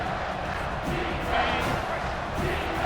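A stadium crowd in a football video game roars and chants for defense, a steady dense wall of voices at moderate level throughout.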